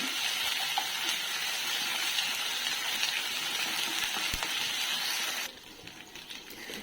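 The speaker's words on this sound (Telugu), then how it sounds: "అల్లం వెల్లుల్లి పేస్ట్ వేస్తున్నాను ఇది పచ్చివాసం పోయే వరకు వేయించుకోవాలి" Onions and ginger-garlic paste frying in a pan for a restaurant-style chicken sherva, a steady loud hiss of sizzling that drops away sharply near the end to a quieter sputter.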